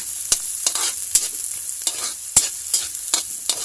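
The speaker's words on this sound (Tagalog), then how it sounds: "Saute lang natin ang garlic at saka onion." Garlic and onions sizzle as they are sautéed in a pan, a bright steady hiss punctuated by repeated sharp utensil scrapes and taps, close and clear with no talking.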